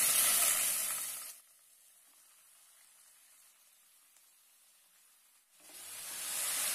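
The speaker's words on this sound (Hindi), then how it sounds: "ऑयल में अच्छे से फ्राई कर लेंगे" Chicken frying in oil with ginger garlic paste gives a loud, close sizzle for the first second or so. Near-silence follows for about four seconds, then the crackling sizzle swells back up at the end.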